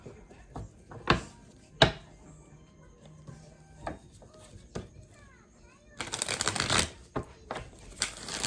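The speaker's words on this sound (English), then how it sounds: "let's pull some more cards and see what else we get for you" Tarot cards are drawn with scattered soft flicks and taps, then shuffled in a louder rustling burst near the end, with faint voices in the background.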